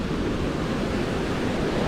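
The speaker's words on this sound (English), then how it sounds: "There is a little wave here." A small ocean wave breaking at a surf spot, heard as a continuous broadband wash of surf with wind rumble, steady and moderately close, with no voices.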